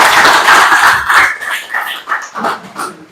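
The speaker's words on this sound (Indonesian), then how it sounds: "Tepuk tangan dulu buat Meme." A classroom of students claps for a classmate after she answers an accounting question, a loud burst of dense applause that thins into scattered claps over about three seconds.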